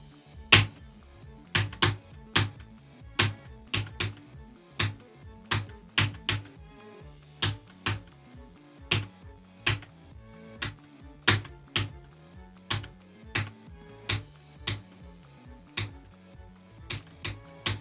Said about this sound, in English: I'll let you hear my clicks